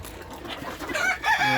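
An improved Sonali-breed local rooster from a breeding parent flock crows once, a strained rising call near the end, over soft clucking and barnyard noise with no talk.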